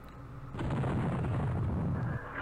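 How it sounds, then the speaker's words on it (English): Artillery fire in the war strategy game Campaign Series Middle East rolls in as a heavy rumbling barrage, a dense low boom swelling after a quiet start and tailing off near the end. "Oh, they've got artillery."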